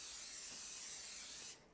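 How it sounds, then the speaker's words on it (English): Neutral cooking oil is sprayed from a spray can onto a bowl for keto cinnamon roll dough, giving one steady close hiss lasting over a second before it abruptly stops. "I want to put a little bit of a neutral spray oil on it"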